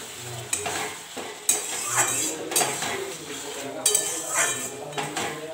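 Fish curry with potatoes and bata fish sizzles in a metal pot while a utensil stirs it, with rhythmic scraping and clinking over a steady frying hiss, close up and without talk.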